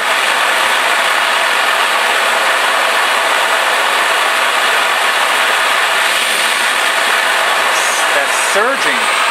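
A plate burner with a surging fault gives off a loud, steady broadband roar that holds throughout, with brief chirping wavers near the end.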